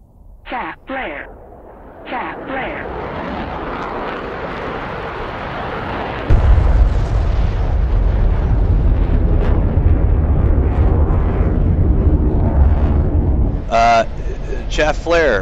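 Bomb dropped from an F-16 in a flight simulator game bursts into a loud, sustained explosive rumble that swells and keeps roaring for several seconds under a voice narrating before and after.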